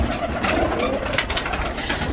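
Pigeons cooing steadily and close by, the soft throaty calls layered over a dense, continuous bed of bird noise with no pauses.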